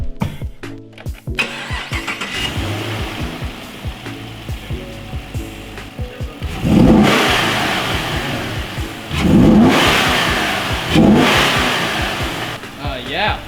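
A Chevrolet Camaro fitted with cold air induction and a strut bar cranks over with a mechanical whir, then fires up and revs in three loud, rising surges, with brief human voices heard faintly near the start.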